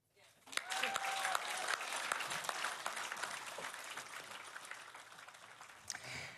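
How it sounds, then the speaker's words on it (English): Crowd clapping for Scott Morrison at a 2022 Australian election event, the applause rising quickly and holding steady and fairly distant, with a few sharp individual claps standing out and a brief voice near the start. "Give him a clap"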